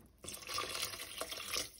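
Two cups of water pour into a soup pot on the stove, a continuous splashing, bubbling gush that starts abruptly and runs steadily to the end.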